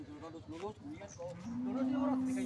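A pregnant breeding cow lows in a long, rising moo near the microphone, preceded by brief shorter calls, with someone talking close by.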